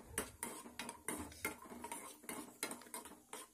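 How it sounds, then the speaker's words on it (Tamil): Cashews and dried fruits roast in ghee in a pan while a metal spoon stirs them. Quick, rhythmic scrapes and clinks sound against the pan, close and fairly quiet, with no voices. "கேஷ்யூ முந்திரியும் அந்த ட்ரை ஃப்ரூட்ஸ் எல்லாமே சேர்த்துட்டு நல்லா கொஞ்சம் வறுத்துக்கலாம்"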